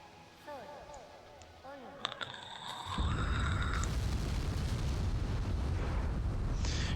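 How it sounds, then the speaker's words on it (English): A rocket blowing up in Kerbal Space Program 2: after a few clicks and rising tones, a loud, dense roaring blast hits about three seconds in and keeps rumbling steadily to the end. "Wait for the explosion."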